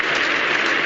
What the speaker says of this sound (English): applauding a very promising innings